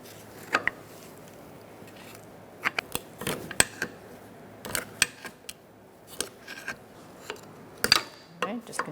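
A pry bar and cold chisel work a 2004–2009 Mazda 3 2.3L engine mount bushing loose, giving scattered sharp metallic clicks, scrapes and knocks at close range against a quiet background.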